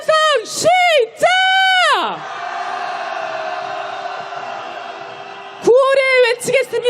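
Large candlelight protest crowd at a rainy march for impeachment, roaring in loud sustained collective shouts and cheers, several rising whoops then a long massed roar before more chanting bursts.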